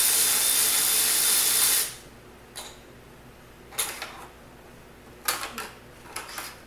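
An electric ratchet whirs loudly and steadily for about two seconds while loosening a bolt during an engine pull on a VB Subaru WRX, then stops, followed by scattered metallic clicks and clanks of tools nearby.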